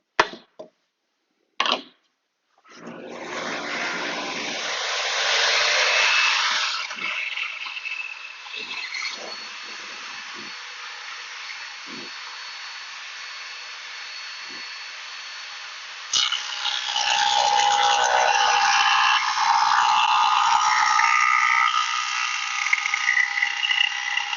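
A Shopsmith fitted with a stacked dado blade set and a sacrificial rabbeting fence cuts a rabbet along a wood edge: a loud, steady whine that starts after a few brief knocks, runs continuously, then rises in pitch and intensity partway through.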